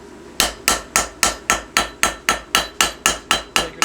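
A hammer strikes the spine of a forged blade on an anvil in a metal shop, a dozen sharp, evenly spaced ringing blows at a brisk steady rhythm, close and loud with no speech.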